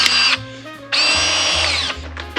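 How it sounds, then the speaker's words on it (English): A powered PEX expansion tool working on plumbing pipe: two bursts of high, droning motor whine separated by a brief pause, with low clunks as the head cycles. The sound is close and loud. "PEX expansion tool, so see that? Expands."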